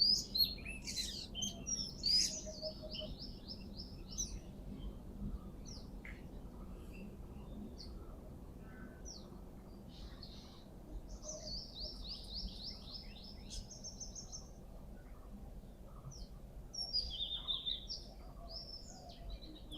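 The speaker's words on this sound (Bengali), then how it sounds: "দেখেন দুয়েল পাখি ডাকছে।" Oriental magpie-robin (doyel) singing in a garden, with repeated bright whistled phrases and chirps at moderate distance over a steady low background hum, with faint insect-like patter.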